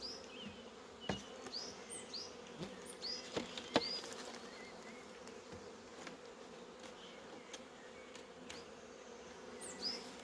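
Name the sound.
honeybees buzzing around hives in an apiary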